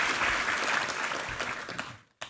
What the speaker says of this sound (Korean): 격려 박수 한번 부탁합니다.